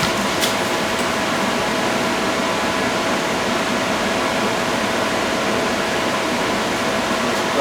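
A small 450 unit runs steadily for the whole stretch, a constant broadband whoosh of air with a faint mechanical hum, fairly loud and unchanging, with no talking.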